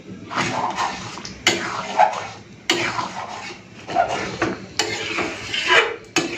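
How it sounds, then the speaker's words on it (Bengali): Whole cumin and dried chilli are ground on a grinding stone. Close, loud rasping strokes come in a steady back-and-forth rhythm, about six sharp pushes over several seconds. "সেই ফাঁকে আমি এই মশলাটা একটুখানি গুঁড়ো করে নিই, গোটা জিরে আর শুকনো লঙ্কাটা"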